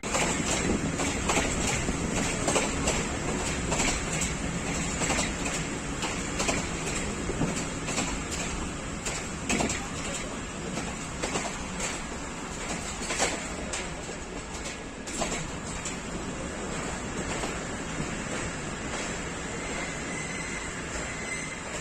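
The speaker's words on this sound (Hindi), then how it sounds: "पचास मिनट के सफ़र के बाद गुजर खान पहुंच रही है 46 डाउन पाकिस्तान एक्सप्रेस" Pakistan Express passenger train, 46 Down, pulling into Gujar Khan station: a steady, loud rumble with rhythmic clacks and rattles of rail cars, heard from on board and slowly easing over about twenty seconds.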